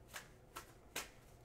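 Osho Zen Tarot cards being shuffled close up in three quick riffling bursts, soft and crisp, with no talking.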